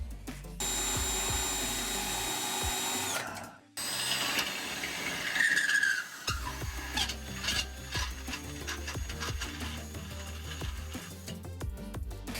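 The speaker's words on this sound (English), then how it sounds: "I need to drill a hole on the passenger side." A power drill whines steadily, stops briefly, then grinds and scrapes against the metal frame of a 2009 Smart ForTwo in rough, uneven bursts, close and loud, during a trailer hitch installation.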